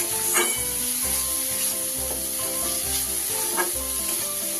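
Spice masala for a tangra fish curry sizzles steadily in a pan over a low gas flame, with a ladle scraping and stirring at a regular rhythm, close and continuous.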